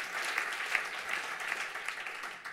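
An audience at the opening of a German education awards ceremony applauds steadily, a dense even wash of clapping that tapers slightly at the end.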